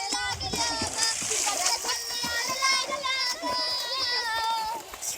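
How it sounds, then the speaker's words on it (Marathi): Splashing water and children's voices from a group of people swimming in a village river, with continuous splashes and child chatter throughout. "हे इथं नदीवरती पोहायला आलेत"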